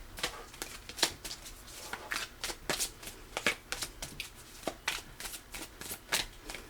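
A deck of tarot cards is shuffled up close, with crisp riffles and slaps repeating in a quick, uneven rhythm of about a dozen bursts.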